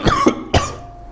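A person coughs twice in quick succession, close and loud, with short harsh bursts and a brief gap between them, in a gym during deadlift training.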